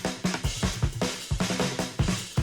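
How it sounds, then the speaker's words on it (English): Programmed drum track from the Sun Drums plugin in a game soundtrack breakdown: punchy kick and snare hits in a steady, busy pattern with bright cymbal wash, loud and alone. "I guess there's also the drums."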